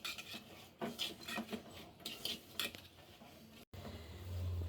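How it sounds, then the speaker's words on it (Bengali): Sliced onion being mashed and rubbed by hand with coriander powder in a bowl: quiet, close wet rasping and squishing strokes in irregular bursts, followed by a soft hum. "এখন হাতে ভালো করে পেঁয়াজটা চটকায় নিব, নরম করে নিব।"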